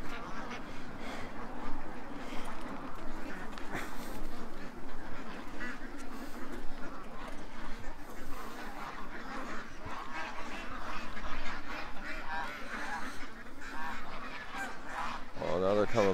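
Ducks quack repeatedly outdoors in the morning, a steady chorus of honking calls near and far over ambient wind noise, with a brief sharper sound at the very end.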